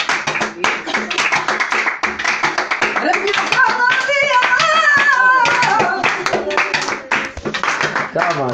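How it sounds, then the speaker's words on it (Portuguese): Flamenco palmas, brisk rhythmic hand clapping keeping steady time close by under a woman's Gypsy-style singing of a lullaby, with voices calling out around it. "Palmas, palmas"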